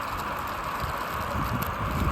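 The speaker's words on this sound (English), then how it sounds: "Windy." Wind blowing across the microphone outdoors in Kansas, a steady broad rushing noise with low rumbling gusts and no voices.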